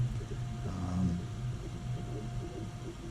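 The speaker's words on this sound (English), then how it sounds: "Now I apologize for the fan noise over here." A steady low hum and whir of a small filament dryer fan runs throughout, fairly close, beside a Prusa Mini 3D printer, with a faint constant tone riding on top and no talking.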